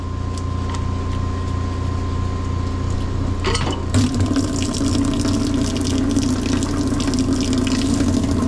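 Water drains from a boiler system's piping in a cramped boiler room during brazed plate heat exchanger work, a steady close rushing flow over a low hum that grows louder and fuller after a few seconds.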